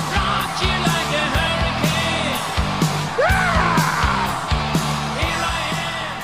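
A man imitates Howard Dean's famous campaign scream with a loud, rising, strained yell over a steady thumping background beat.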